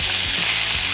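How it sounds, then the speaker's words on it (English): Butter sizzles hard in a hot pan alongside a searing steak, a dense, steady crackling hiss that stays loud and close throughout, with no voices. "Now we're gonna add some butter to the pan."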